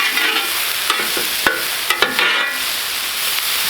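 Meat and vegetables frying on a Vevor flat top griddle, a steady close sizzle broken by sharp scraping taps of a spatula as food is stirred and moved across the hot surface.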